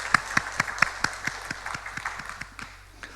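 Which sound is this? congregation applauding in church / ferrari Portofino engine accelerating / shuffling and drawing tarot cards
congregation applauding in church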